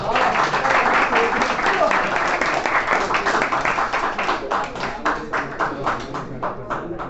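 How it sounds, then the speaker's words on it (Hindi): Audience clapping at a college farewell party, steady and dense at first, then thinning into scattered individual claps toward the end, with murmured voices mixed in. "तालियां फ्री हैं तो दिल खोल के ज़रा लगाया करें"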